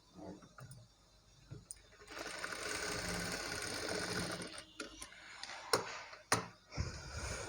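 A sewing machine stitches invisible piping onto a garment neckline. Quiet handling clicks give way to a steady, close mechanical whirring run of a few seconds, followed by further clicks and thumps.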